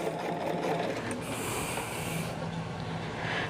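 Sewing machine running steadily while piecing a jelly roll quilt, a continuous close whir with no pauses, alone without talk.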